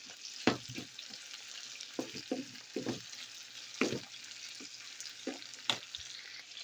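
Salt mackerel and cabbage frying in a pan, with a steady close sizzle broken by scattered crackles and spatters, alone with no talk.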